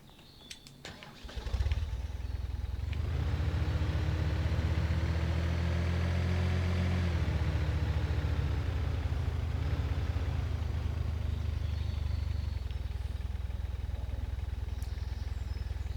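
A tractor engine in a farming simulator game cranks and catches after a second or two of clicking, then settles into a loud, steady, low idle that holds to the end.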